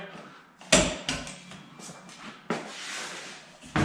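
Half doors on a Can-Am Defender side-by-side swing open, giving a few sharp latch clicks and clunks with softer rattles between, close by, over faint background hiss.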